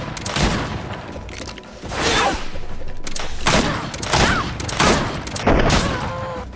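Gunfire in the video game Greedfall, repeated bursts of shots and booming impacts in clustered volleys, loud and close amid battle noise.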